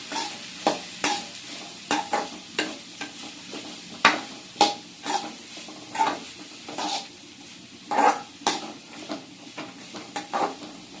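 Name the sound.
lightly stir-frying vegetables for pickle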